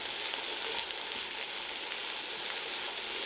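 Onions, garlic, ginger, red pepper and carrot sauté in a hot pan, a loud, even, close sizzle that holds steady throughout with no talk.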